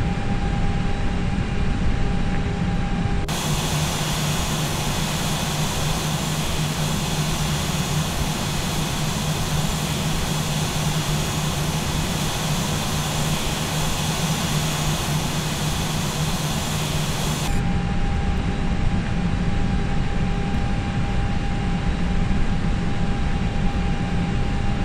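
Airliner jet engines spool up for takeoff in Microsoft Flight Simulator X, a loud steady broadband roar that swells abruptly and holds for about fourteen seconds before dropping back to a lower hum.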